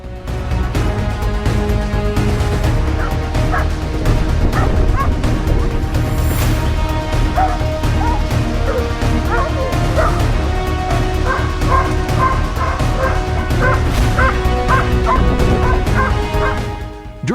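Hunting dogs on a wild boar hunt bark and whimper continuously for over fifteen seconds, with repeated yips and whines in a dense, busy sound that holds a steady level to the end.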